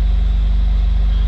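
A 2007 Pontiac Solstice GXP engine idling steadily, a low, even rumble close by with a constant hum and no revving throughout.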